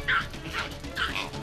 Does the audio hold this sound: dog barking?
yes